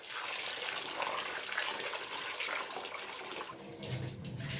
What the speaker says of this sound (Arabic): ده رز سايب طبعا ايه فهغسله